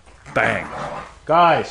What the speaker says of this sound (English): Sorry about the dogs, guys.